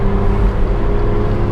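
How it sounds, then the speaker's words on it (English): A BMW M2 in Sport Plus and loud mode drives through a tunnel, its engine a steady low rumble with a faint whine, close and even with no sharp revving. "The good thing with the M2, it makes a lot of noise without having to go that fast."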